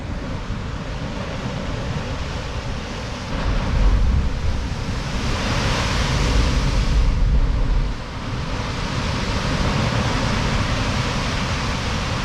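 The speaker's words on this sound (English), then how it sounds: "A couple of big swells coming through here." Big ocean swells rolling in by the shore on a fishing trip, a steady broadband wash of surf and wind that swells louder for a few seconds in the middle before easing back, with no talking.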